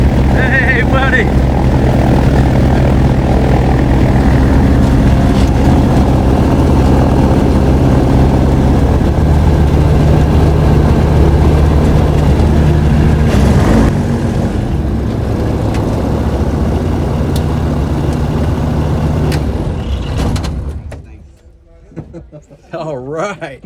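A Rans S12 light aircraft with a Rotax 912 engine drones loudly and steadily from inside the cabin as it comes in to land, the engine note easing off toward the end before it fades out.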